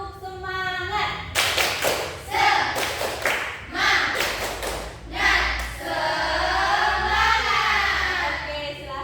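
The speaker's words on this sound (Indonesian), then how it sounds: "Ayo, tepuk semangat." A classroom of students performs a rhythmic clapping chant, bursts of sharp group claps and thumps alternating with children's voices chanting and a teacher talking.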